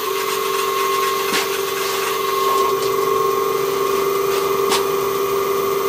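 A metal lathe runs with its belt on the fastest pulley, giving a steady, fairly loud mechanical hum with a constant pitched whine that carries on unchanged throughout, with a couple of faint clicks along the way.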